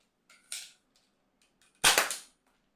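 An X-Shot Kickback toy blaster with a recoiling mechanism is primed with a short click, then fires with one loud, sharp, close snap.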